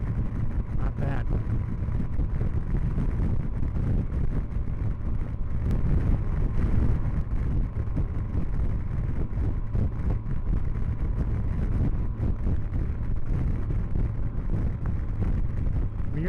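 A 2013 Yamaha FJR1300A motorcycle cruising in fifth gear at 60 mph, just over 3,000 rpm, giving a steady engine drone buried under heavy, constant wind rush.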